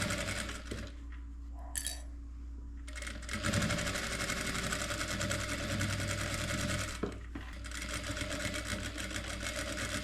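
A sewing machine runs close and loud, stitching forward and reversing to backstitch, with steady rapid needle chatter interrupted by brief pauses and restarts.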